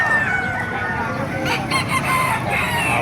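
A White Hatch gamecock rooster crows loudly and close at a busy chicken market in Bocaue, Bulacan, a single drawn-out call over clucking fowl and background murmur.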